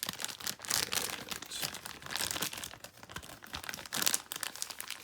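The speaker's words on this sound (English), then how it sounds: "So much packaging on this thing. You got styrofoam and cardboard and plastic everywhere." Styrofoam, cardboard and plastic packaging crinkle, crunch and tear in steady close-up handling as a heavy metal collectible figure is unboxed, with no talking.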